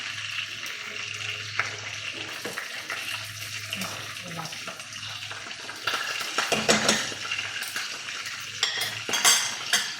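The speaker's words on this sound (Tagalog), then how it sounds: "Yan, isda ko piniprito." Fish frying in a pan at home for lunch, a continuous crackling sizzle with clinks and splashy bursts of spatter, a voice speaking faintly underneath.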